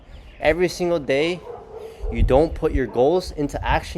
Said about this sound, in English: excuse the freaking dogs